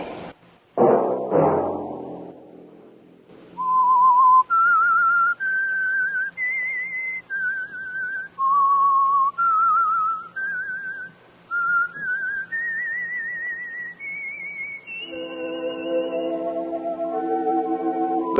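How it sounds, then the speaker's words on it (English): A single person whistles the signal tune for The Whistler radio show, a clear melodic sequence of rising and falling notes, followed by an orchestral chord at the end. "Let that whistle be your signal for the Whistler"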